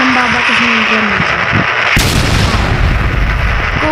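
A loud blast erupts in the stick-figure game Anger of Stick 5, where a thrown grenade sets off a sudden booming roar halfway through amid constant background gunfire and noise, with a voice talking over it.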